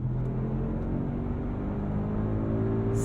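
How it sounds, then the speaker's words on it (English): Deep, steady V8 roar from a 2024 Mercedes-AMG GLS 63 SUV, a 603-hp V8 with the performance exhaust baffles open in Sport Plus. It drones loud and close for three seconds, with no talking. "In Sport Plus, the baffles and the performance exhaust are open, unleashing V8 noise on innocent passersby."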